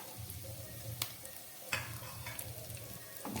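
Spices, cashews and raisins fry gently over a low gas flame, making a soft, quiet sizzle with a few faint crackles and stirring clicks.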